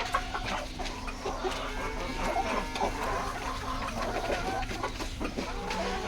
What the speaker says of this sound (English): But chickens they're always singing, and they fight too, but generally they sing.